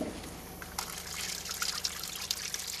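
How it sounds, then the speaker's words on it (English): Water trickles and splashes through a newly renovated HOBAS fiberglass manhole shaft, a faint steady flow that turns brighter and gushier partway through, with small drips standing out. "the temporary seals can be removed to allow the water to flow through the new HOBAS manhole"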